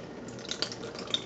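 Liquid drips from a blender in a kitchen while zucchini bread is being made, giving a few quick, faint splashes and patters that sound close by, with no talking.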